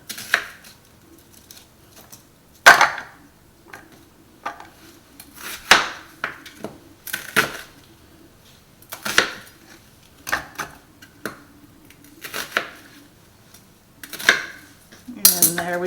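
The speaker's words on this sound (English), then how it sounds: "Give the onions a couple chops" A kitchen knife chops onions on a cutting board in a steady series of sharp, close knocks roughly every second, with a brief metallic clatter at the end.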